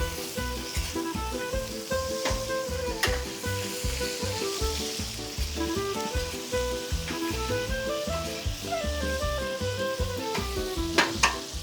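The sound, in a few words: frying eggplant with golden onion in pan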